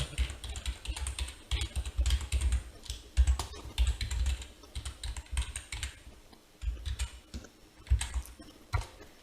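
Email addresses being typed on a computer keyboard, a steady run of close, quiet key clicks in uneven bursts with short pauses between words.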